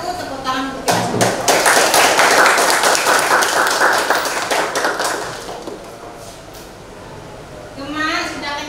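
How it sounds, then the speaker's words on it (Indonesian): Hands clap in a burst of applause at the close of an online biology class, dense rapid claps swelling for several seconds and then fading, with voices mixed in. "Tepuk tangan untuk kita semua"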